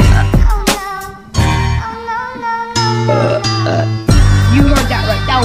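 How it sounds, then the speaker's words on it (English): A man burps loudly and repeatedly after taking bites of oatmeal, several long, resonant belches following one another close to the mic, with no talk between them. "With every bite I take, there's going to be a burp."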